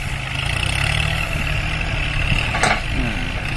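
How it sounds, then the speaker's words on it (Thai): A new 40 hp Kubota farm tractor engine runs steadily at idle while ploughing rice stubble, a continuous low rumble with a brief clatter near the end. "อันนี้รถไถใหม่ออกมาปีนี้เด้อพี่น้องเนี่ยคูบูต้า สี่สิบแรงนี่"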